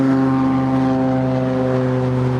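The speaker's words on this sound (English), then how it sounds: "That is a tiny plane." A small propeller plane drones steadily overhead, its engine a loud, even hum that barely changes as it passes.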